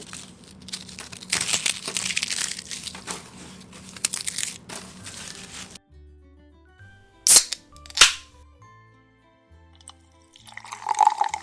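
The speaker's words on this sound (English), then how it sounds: "Add ice cubes." Ice cubes crushed with lemon, mint, salt and sugar for a lemon soda mojito: a long stretch of rough, gritty grinding and crackling, then a pause and a couple of loud sharp cracks, with more crunching near the end.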